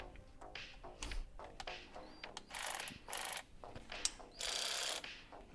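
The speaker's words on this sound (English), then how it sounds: "Ratchet didn't have enough power." A ratchet wrench worked in a garage, trying to loosen a fastener: a close series of uneven clicking and ratcheting bursts with metallic rattles and short pauses, no talking.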